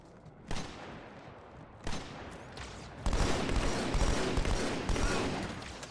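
Bursts of gunfire in a Halo game: two sharp isolated shots, then a sustained loud stretch of rapid automatic fire that keeps going to the end.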